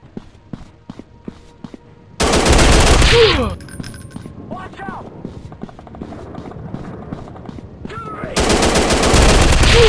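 Gunfire from the Android FPS shooter game FPS Commando Strike Mission: loud bursts of automatic fire crash in twice, once early and again near the end, with scattered shots, footsteps and game effects between, no one talking.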